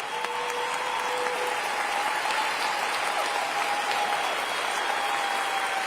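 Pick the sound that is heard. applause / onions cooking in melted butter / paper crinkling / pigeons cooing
applause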